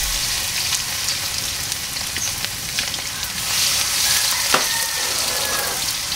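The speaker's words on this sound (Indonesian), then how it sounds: "Saya masukkan ini bawang putih dan juga bawang merah." Garlic and shallots frying in a pan for fried noodles, a steady close sizzle and crackle of oil running throughout with no one talking.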